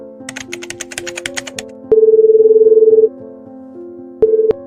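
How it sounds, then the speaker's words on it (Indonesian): Phone dialing in an animated cartoon drama: a quick series of keypad tones is tapped out, followed by a long steady ringback tone, a pause, and a shorter second tone starting. "Telepon Bintang aja ah, kangen banget sama dia"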